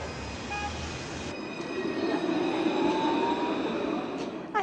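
A light rail tram crosses a street in Paris, rolling past with a rising rumble and metallic wheel squeal, tonal whines drifting overhead, close and moderately loud, with a sharp clank at the end.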